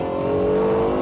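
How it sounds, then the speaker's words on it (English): A Lexus LFA V10 engine, fed through acoustic pipes that channel its sound into the cockpit, holds a loud, steady high-pitched rev with a smooth harmonic tone for about a second, with no voices. "So they settled on the V10 and then matched that with the extraordinary acoustic pipes that channel the noise into the cockpit."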